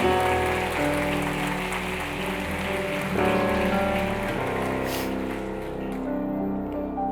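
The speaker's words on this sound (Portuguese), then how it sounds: "Aplauda ao Senhor." A church congregation claps in praise while sustained keyboard chords ring underneath, the rapid patter of many hands blending into a rain-like hiss that carries on throughout.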